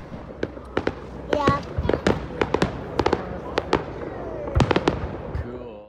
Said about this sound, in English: There's my baby boy looking at the fireworks.